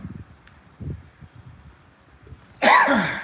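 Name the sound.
throat clearing cough from dry itchy throat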